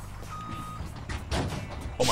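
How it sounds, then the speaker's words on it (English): A single steady electronic reversing beep from a Kenworth T908 semi truck backing up a trailer in Farming Simulator 17, over low engine rumble, followed by hissing and clunking mechanical noises. "Let's back this trailer up, Buttercup"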